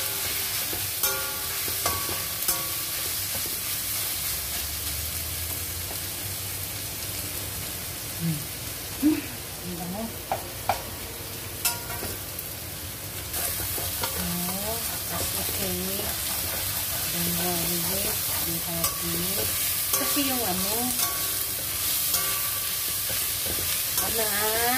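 Garlic and sliced bamboo shoots sizzle and get stirred in a hot pan, with steady frying hiss and scattered utensil clinks throughout, while voices talk intermittently over the cooking.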